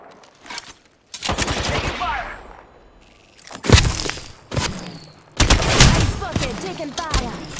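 Rapid automatic gunfire in Apex Legends, loud repeated bursts with short gaps, mixed with game voice lines.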